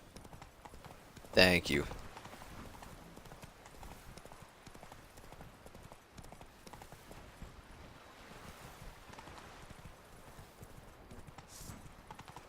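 Roach, a horse in The Witcher 3, with a brief burst of clip-clop hooves near the start, then a faint wind and water ambience through the rest. Someone says a few words.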